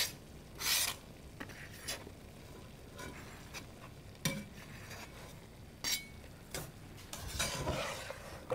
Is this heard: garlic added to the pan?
yes